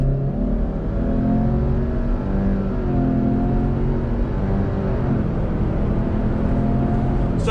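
A 2021 Subaru Outback XT Onyx Edition accelerates hard from a dead stop, its CVT stepping through simulated shifts with a steady, buzzy engine drone that rises and drops in pitch, heard close from inside the cabin.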